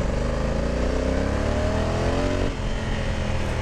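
A Honda Africa Twin 1100 Adventure Sport DCT motorcycle accelerates hard, its engine note rising steadily and loud before an automatic shift drops the pitch, heard close from the rider's position.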